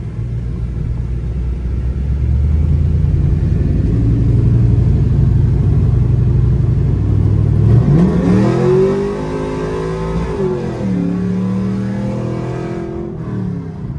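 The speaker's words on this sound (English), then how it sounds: "The car's so cool, loud like this" A Chevrolet Camaro SS V8, freshly fitted with a new fuel pump and with traction control off, idles with a deep steady rumble, then revs hard around the midpoint, rising and falling loudly before settling back to idle.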